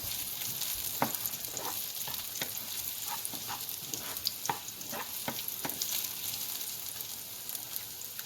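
Garlic and ginger frying in a pan, turned golden brown, with a steady close sizzle broken by repeated stirring scrapes and clicks.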